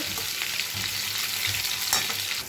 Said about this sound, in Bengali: এবার এক এক করে ডিমটা ছেড়ে দেবো।